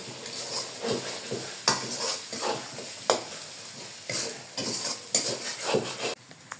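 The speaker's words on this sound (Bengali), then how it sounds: "এখন লবণ দিয়ে দিব এই যে লবণ মশলা কিছু কষে নেই" Goat meat being stir-fried with salt, turmeric and spices in a pan: steady sizzling with repeated scraping and stirring strokes of a utensil against metal, close and fairly loud, no talking.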